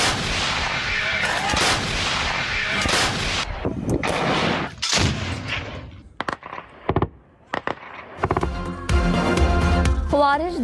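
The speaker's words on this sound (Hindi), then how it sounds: "पाक फौज की जानिब से भारी तोपखाने का इस्तेमाल।" Heavy Pakistani army artillery fire at the Afghan border: loud repeated booming blasts with rolling reverberation, several close shots in succession, intercut with a narrator speaking.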